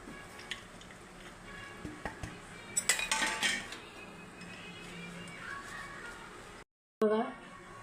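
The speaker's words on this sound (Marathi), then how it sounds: "मी मिसळायले मीठ, लाल मिरची आणि ही शेंगदाण्याचं कूट ह्याच्यात मिक्स करायले बघा मी" Salt, red chili powder and crushed peanuts mixed together in a dish, with scattered spoon clinks and scraping, a busier burst of clatter midway, and a faint voice in the background.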